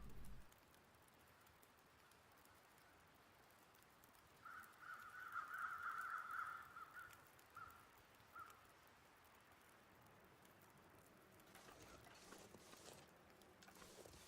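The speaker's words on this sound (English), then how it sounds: "We've got those two sets of crows there." In the frozen wilderness of The Long Dark, a flock of crows caws repeatedly in a brief, moderately distant burst that fades into scattered calls, over a quiet backdrop of wind and faint creaks.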